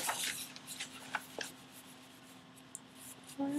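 Pen writing numbers on paper during a math workbook exercise, a quiet scratchy scribble in short strokes close by, faint and alone with no talk.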